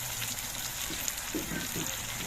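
Ground coriander and cumin hit a pan of frying ginger, giving a steady soft sizzle that runs throughout with faint scattered crackles and some background noise.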